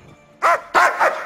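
A police dog with London's dog squad barks three times, loud and close. The first bark stands alone and the last two come quickly together, with no talk around them.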